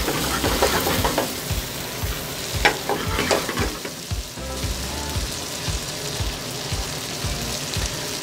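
Gnocchi and spinach sizzle steadily in butter in a hot pan, with a continuous loud frying crackle and repeated stirring scrapes and knocks throughout.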